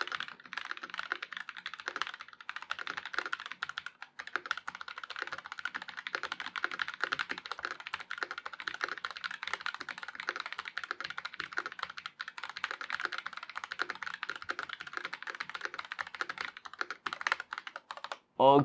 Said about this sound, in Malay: Jom saya buat sedikit typing untuk anda dengar sendiri bunyi typing macam mana.